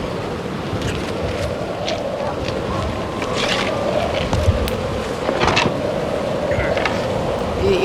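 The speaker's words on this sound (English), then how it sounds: "You hear the wind?" Continuous wind rushes and buffets the microphone outdoors on chimney scaffolding about 200 feet up, a steady broadband roar with occasional louder gusts and faint background sounds.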